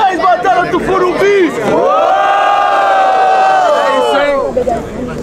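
A loud crowd at a freestyle rap battle final cheers and shouts together in a sustained, rising roar, close and dense, with voices hollering throughout.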